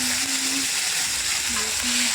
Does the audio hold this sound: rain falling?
no